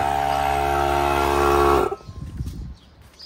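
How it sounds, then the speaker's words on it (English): An air compressor runs in a workshop during a C3 Corvette restomod: a loud, steady droning hum for almost two seconds, then it cuts off, leaving quieter low rumbles and clatter. "that's the compressor"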